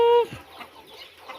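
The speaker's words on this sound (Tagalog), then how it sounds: "magpakain na po ako sa mga alagang manok" Pet chickens cluck just before feeding after a rain shower, starting with one loud, drawn-out call, then soft, scattered clucks nearby with no talk.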